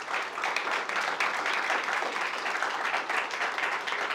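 Steady applause from a crowd, dense and continuous clapping holding at an even level for a few seconds with no voices over it.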